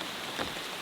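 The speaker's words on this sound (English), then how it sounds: "now it's raining" Rain patters steadily on a tent during a camping trip, a dense, even hiss of drops close overhead with no voices.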